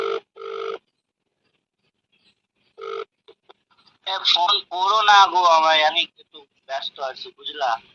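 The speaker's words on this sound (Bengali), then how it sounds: "রিং হচ্ছে তুলবে নাকি তাও জানি না" An outgoing phone call rings twice with short buzzing ringback tones separated by silence, and then a voice answers and talks loudly.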